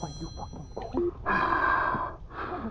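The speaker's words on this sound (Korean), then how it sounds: "니 무슨 전화기 대고 숨소리를 내고 있어" Heavy, raspy breathing comes over a phone line in a horror video game, with two long, loud noisy breaths following a stretch of talking.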